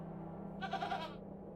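A goat bleats once, a short wavering cry over a low steady background hum, heard in the video game The Excavation of Hob's Barrow.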